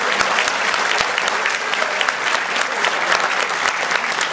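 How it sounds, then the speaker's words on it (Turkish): Loud, sustained audience applause from the crowd at a live stage concert, dense clapping that fills the whole stretch without letting up. "Hadi tekrar kocaman bir alkış rica ediyoruz"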